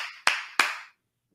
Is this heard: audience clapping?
yes